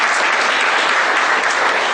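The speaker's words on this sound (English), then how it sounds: "Please thank him with a round of applause." Dense, steady applause from a workshop audience fills the space at a loud, even level without a break, honouring an invited speaker at a one-day income tax seminar.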